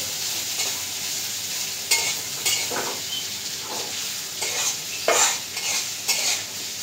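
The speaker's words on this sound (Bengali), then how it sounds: "তো তেলের সাথে পেঁয়াজটা ভাজা নেই।" Onion frying in oil while being stirred, a continuous close sizzle broken by repeated scraping strokes of a spatula against the pan.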